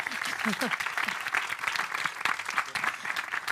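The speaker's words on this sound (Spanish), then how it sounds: "Un aplauso para ellos también." An audience at a Spanish film academy end-of-season event applauds, a dense burst of clapping heard alone, steady and fairly loud throughout.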